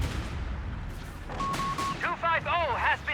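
Booming gunfire and explosions mark the destruction of a 250 half-track in the Company of Heroes 3 video game, a rumbling battle din with sharp blasts and electronic tones near the end.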